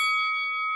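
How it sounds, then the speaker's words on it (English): A whooshy bell sound effect plays as ramped-up news music, steady bright ringing tones with a brief airy whoosh at the start, sustained alone and fairly loud before cutting off abruptly. "That was whooshy bell. I like that whoosh though."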